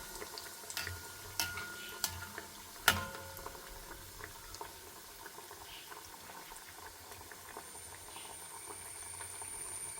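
Chicken donuts fry in hot oil with a soft, faint bubbling and crackle, with a few clicks and taps early on and a quiet steady fizz afterward.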